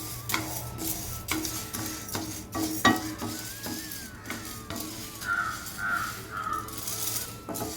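Dried corn kernels dry roasting in a pan for a homemade sweet: a steady stirring, scraping rustle with scattered sharp pops and ticks throughout, fairly close and alone.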